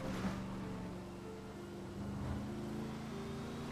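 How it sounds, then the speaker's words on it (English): Turbocharged police CVPI in GTA 5 holding a steady engine drone with a faint high turbo whine layered over it, continuous and close, no talk. "Let me hear it, the turbo."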